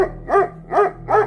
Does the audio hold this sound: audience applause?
no